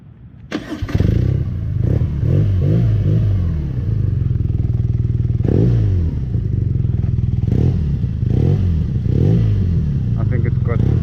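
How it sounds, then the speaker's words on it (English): A 2018 BMW R nineT motorcycle engine cranks and catches, then settles into a loud, steady idle with a few throttle blips, heard close up with no voices. "I think it's got a very nice sounding engine, so within limits, not too loud, not too soft, but perfect."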